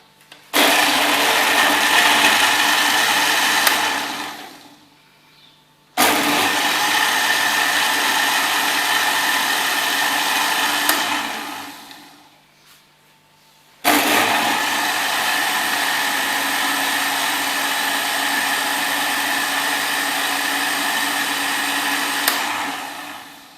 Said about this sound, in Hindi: अब इसे ब्लेंड कर लेते हैं।